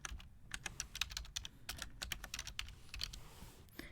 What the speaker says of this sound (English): You will type down that name.